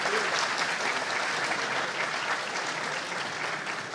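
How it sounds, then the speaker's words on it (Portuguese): An audience applauds a Brazilian science and technology minister at the opening of a 2016 academic assembly, with steady, dense clapping throughout the short stretch. "Nossos aplausos, por favor"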